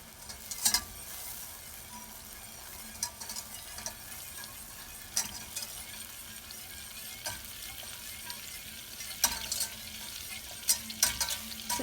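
Butter foaming and sizzling in a pan on a stove as it browns, a steady soft crackle with occasional sharp pops and stirring clicks, no talking.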